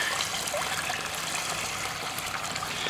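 City water running through a fluid bed with the supply valve fully open, a steady hissing, trickling flow with small bubbling splashes throughout.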